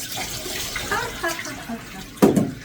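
Water splashes close by during a bath wash, with a sharper slosh near the end and murmured voices before it.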